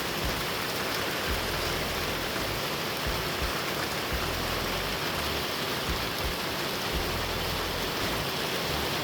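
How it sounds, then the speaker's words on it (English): Heavy rain with hail pouring down in a thunderstorm, heard from a vehicle on a road trip: a constant dense roar with low rumbling, and no talk. "Yeah, it's coming down now. Now it's a lot of hail."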